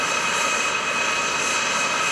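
A KC-135R Stratotanker, re-engined with turbofans taken from used 707 airliners, flies past at an airshow with a continuous, steady jet roar and hiss at moderate distance.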